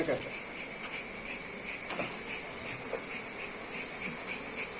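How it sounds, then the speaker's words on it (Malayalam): Honey bees swarm around a hive box during beekeeping, their steady high buzzing droning without pause alongside a chirping insect hum. "നമ്മളെ വെച്ച കുപ്പിയിലിതാ ധാരാളം ഈച്ച"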